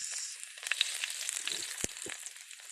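Garlic and onion sautéing in a hot pan for a Filipino stir-fried vegetable and pork dish, a soft steady sizzle with a few brief clinks of a utensil against the pan.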